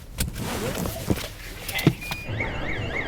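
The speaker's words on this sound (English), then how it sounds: "Did you set off the alarm?" A car alarm sounds in a Walmart parking lot: a warbling, siren-like electronic tone with repeating sweeps that becomes prominent in the second half. It rises over a busy background of car and door noises.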